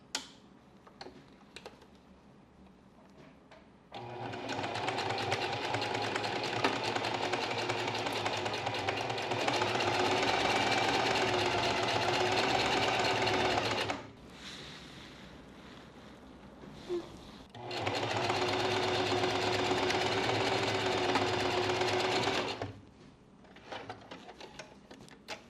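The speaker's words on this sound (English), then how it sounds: "I'm going to be doing a zigzag stitch to close it off" A sewing machine runs a zigzag stitch joining fabric to interfacing for a mini skirt, in two sustained close bursts of rapid whirring separated by a short pause, with faint handling sounds between.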